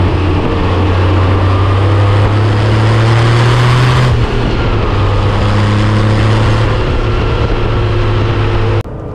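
A 1996 Porsche 993 Turbo with 408 hp cruises on the Autobahn in Bavaria, its engine a steady, loud droning hum with wind and road noise. A shift in pitch comes midway and the noise cuts off abruptly at the end.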